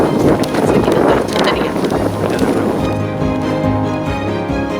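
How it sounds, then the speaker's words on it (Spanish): Wind rushes steadily across a broad open plain ringed by mountain ranges, a loud continuous roar buffeting the microphone, easing slightly toward the end. "en donde parece dar la vuelta el viento"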